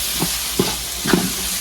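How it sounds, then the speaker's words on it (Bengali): Chopped carrot lightly fries in a pan with ginger-garlic paste for bhuna khichuri, a steady close sizzle with three short stirring scrapes. "গাজরও হালকা ভেজে নেব।"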